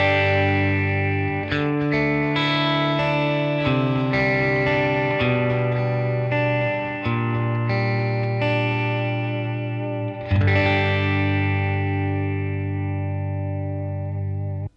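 Electric guitar played through a Headrush MX5 modelling a Blackface Deluxe amp with its tremolo switched off, clean-to-lightly driven chords ringing and sustaining steadily, with a fresh strum near the end that slowly decays.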